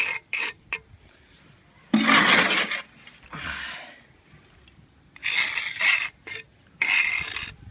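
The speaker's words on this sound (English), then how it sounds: "So I've got the brick laying trowel. I fill in there like so." A brick laying trowel scrapes and pushes sand into the edges of new block paving in a patio or path, giving several short gritty rasping bursts separated by quiet gaps.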